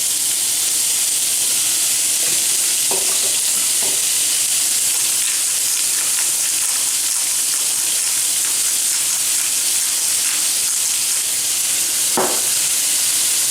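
Beef burgers sizzle on a piping-hot grill in a steady, bright frying hiss, with a few soft clicks and taps as patties are placed and seasoned; no one speaks.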